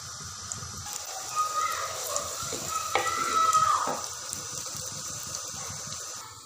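Onions frying in hot cooking oil make a steady crackling sizzle, with stirring and scraping noises building briefly in the middle before settling back to a constant fry.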